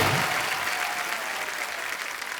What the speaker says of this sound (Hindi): जोरदार तालियों से अनुष्का का स्वागत.